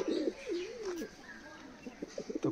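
Kalduma pigeons gathered at water, giving soft, low cooing calls with a few faint chirps, close by and moderately quiet.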